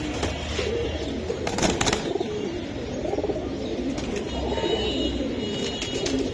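Giribaz pigeons cooing near at hand, soft throaty coos over a busy background with a few sharper chirps and bumps, no clear speech.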